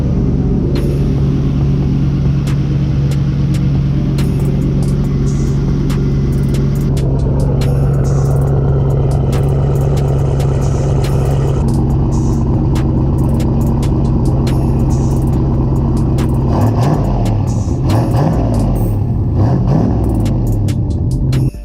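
A J30-powered Honda Accord with a large 67mm VSRacing turbo idles steadily nearby in a garage, a loud continuous rumbling drone with a slight change in tone near the end.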